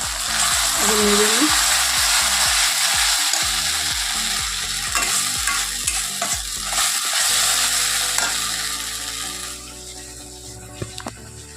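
Capsicum frying in oil with bay leaf and spices, a loud continuous sizzle overlaid by rapid rhythmic clicking and scraping as a spatula works the pan, easing off toward the end.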